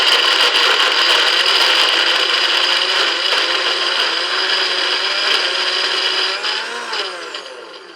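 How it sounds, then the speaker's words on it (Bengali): A blender grinds soft dates into a smooth cream-like paste, a loud steady motor whine with a dense churning roar that holds for several seconds, then drops in pitch and winds down near the end. "খেজুরটাকে একটু বেটে নিতে হবে, নাহলে কি হবে, ক্রিমের মতো হয়ে যাবে একদম খেজুর"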